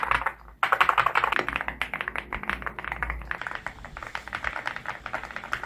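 Rapid clacky keystrokes on an Evowork EVO75 mechanical keyboard, typed in quick uneven bursts, close up and fairly loud with no talking.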